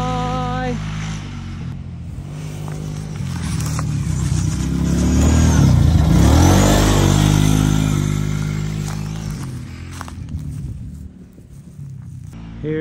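Vehicle on a short drag-racing course accelerating past while hopping wheelies, a loud engine that swells to a peak then fades away, with a voice talking over it.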